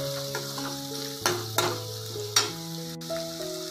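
Ginger garlic paste and turmeric fry in a pan for a tomato gravy under a steady soft sizzle, with a few sharp stirring scrapes and clicks of a utensil, and no talk.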